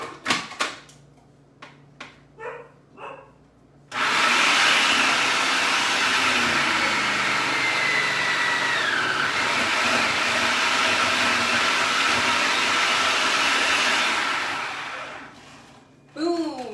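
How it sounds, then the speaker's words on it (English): A food processor grates a block of cheese through a spinning blade. A few faint knocks come first, then a loud, steady whirring roar runs for about twelve seconds before cutting off. "I'm going to feed my cheese into this, and it's going to press the cheese into that spinning blade"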